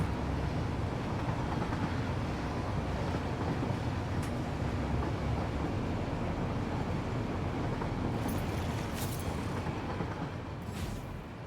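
Two trains run in a video game, making a steady, loud mechanical rumble and clatter that carries on unbroken, with faint metallic squeals near the end.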